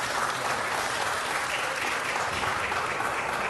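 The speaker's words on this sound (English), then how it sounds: "So I just want to give them a round of applause." Guests at a city council meeting receive a short burst of steady applause from the chamber, even and continuous throughout.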